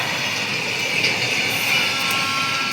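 A train rumbles along steadily with a continuous, even roar and hiss, close by, with no voices.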